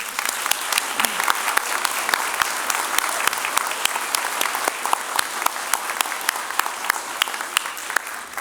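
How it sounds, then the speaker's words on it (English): Steady applause from a large crowd at a university convocation, sustained clapping throughout without a break. "Let's have another round of applause, shall we?"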